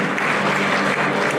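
Applause for a folk group at a children's and folk music festival in Ambrolauri, Racha, a brief burst of dense crowd clapping, loud and close.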